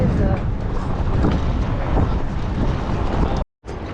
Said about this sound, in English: Look how big those waves are.